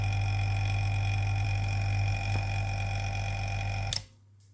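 Vacuum pump with a gauge hooked to the cylinder 1 exhaust port of a faulty motorhome engine, a steady loud mechanical drone with constant hum and whine that cuts off abruptly near the end, leaving faint quiet.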